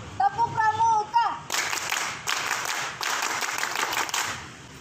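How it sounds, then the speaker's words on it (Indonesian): A brief sung or spoken lead-in gives way to a group of young scouts doing the Pramuka scout clap in rhythmic bursts, several quick pattern claps separated by short breaks. "Tepuk pramuka."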